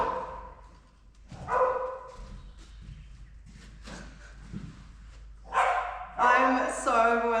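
Several dogs bark excitedly in short bursts, moderately close, alongside a person talking and exclaiming with excitement.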